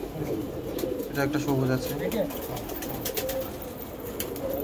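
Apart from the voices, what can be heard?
high flying pigeons cooing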